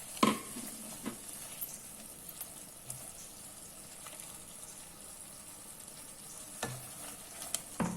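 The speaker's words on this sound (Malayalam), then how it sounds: "ഇതിൽ കിടന്ന് നന്നായിട്ടൊന്ന് വഴലട്ടെ." Eggplant curry masala made without coconut sautés quietly in a pan, a faint, steady sizzle broken by a few sharp knocks of a utensil against the pan.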